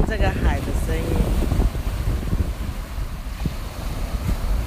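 Sea waves wash onto the shore of a beach on Lanyu island at sunset, a steady loud surf rush mixed with heavy wind buffeting, and a voice speaking over it at the start.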